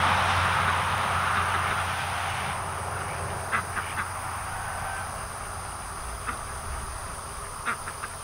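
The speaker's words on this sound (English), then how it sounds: "Ducks are out." Ducks quack in short, faint bursts on a farm, a few scattered calls heard against a steady hiss of outdoor background noise.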